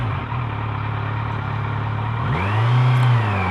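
A 2018 Kawasaki Z900 motorcycle engine hums steadily while riding, then rises in pitch as the throttle opens and the revs climb, loud and close with continuous wind rush.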